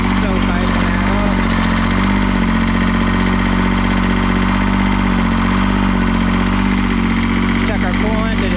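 A New Holland LS125 skid steer engine runs at a steady idle close by, a constant low rumble with a droning mid-pitched tone, with someone speaking over it.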